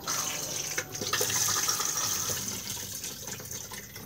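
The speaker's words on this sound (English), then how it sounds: "push to flush on the top," A Thetford cassette toilet in a 2021 Compass Casita 586 caravan flushes with a steady, close rush of running water that lasts the whole moment, with no voices.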